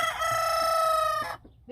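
A rooster crows once, loud and close, in a backyard flock of hens and roosters kept alongside a goat herd, with a long sustained call that cuts off sharply near the end.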